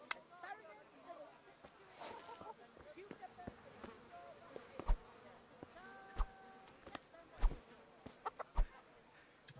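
Chickens in the medieval RPG Kingdom Come: Deliverance cluck and squawk in short bursts over faint buzzing insect ambience, with a few sharp hits and a voice talking intermittently.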